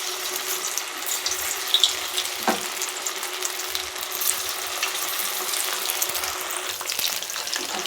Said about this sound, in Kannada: ಇವಾಗ ಪನ್ನೀರ್ ಹಾಕ್ತಾಯಿದ್ದೀನಿ. ಒಂದೊಂದೇ ಹಾಕ್ಬೇಕು, ಇಲ್ಲಾಂದರೆ ಅಂಟ್ಕೊಂಡ್ಬಿಡುತ್ತೆ.